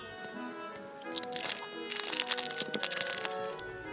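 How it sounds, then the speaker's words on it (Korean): Plastic packaging around a Harry Potter masking tape set, bought online, being torn open close up: a run of crackly, crinkling rips and crunches that grows busier toward the end. "그럼 이건 뜯어서 한번 보도록 할게요."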